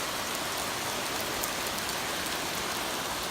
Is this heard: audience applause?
no